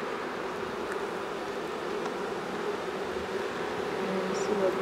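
Honey bees buzzing at an opened hive, a dense, continuous hum that stays close and steady throughout with no pauses.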